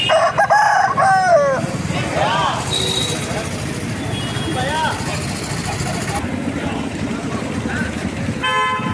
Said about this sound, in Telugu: కోడిపుంజులు ఉన్నాయి, కోడిపెట్టలు ఉన్నాయి వాళ్ళ దగ్గర.